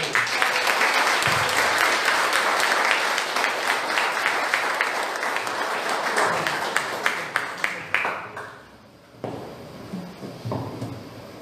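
A church congregation at a Sunday service applauds, dense sustained clapping from many hands that fills the room for several seconds before thinning out to a few scattered claps.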